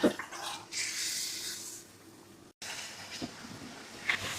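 A mug of water poured into a pan of spiced katla fish head curry, a rushing splash of about a second, then quieter bubbling and a faint clink near the end.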